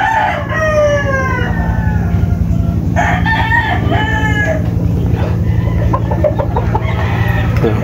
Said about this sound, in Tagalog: Yung iba nandito, may mga inahin.